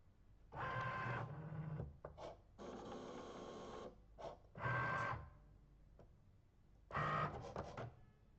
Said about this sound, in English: the machine will tell me that I must now press the go button so that it can start cutting